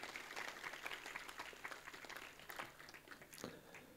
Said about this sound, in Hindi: जोर से तालियां बजाइए इस सजावट के लिए।